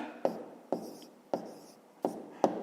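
Pen or pencil writing answers by hand on paper for a fifth-grade maths exercise: five short scratchy strokes, each a quick sharp onset that fades, close and clear with no talk.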